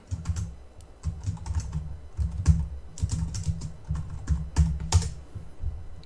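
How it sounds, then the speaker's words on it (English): Steady, quick typing on a computer keyboard: close, crisp key clicks in uneven bursts with brief pauses, no talking. "Type in here the name of a variable and its type"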